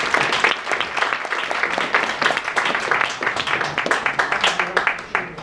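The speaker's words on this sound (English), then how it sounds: "let's welcome Professor Oh with a big round of applause." An audience at a lecture event gives a warm round of applause to welcome a professor: dense, steady clapping from many hands that lasts the whole stretch without letting up.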